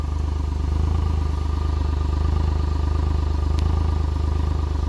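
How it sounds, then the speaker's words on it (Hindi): Suzuki Alto VXR 2019 idling with its engine and exhaust running, a steady low pulsing drone with even rapid beats, loud and continuous, with a rough, split-sounding exhaust note. "गाड़ी अभी स्टार्ट है तो आप साउंड चेक करें, इतनी दूर से भी मतलब इंजन का भी आ रहा है और साइलेंसर का"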